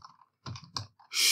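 Keystrokes on a computer keyboard as a short Linux terminal command is typed, a few close, quiet clicks in small bursts, ending in a louder, broader burst of sound.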